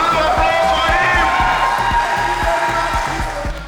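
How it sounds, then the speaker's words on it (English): A crowd at a Valentine's speed-dating event for singles claps steadily and cheers for a participant. Sharp, evenly spaced claps ring out over a busy wash of voices and whoops, loud and close, fading slightly at the end. "Round of applause for him!"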